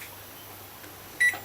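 An oven timer gives one short, faint electronic beep as it is set, over a low background hum in a quiet kitchen.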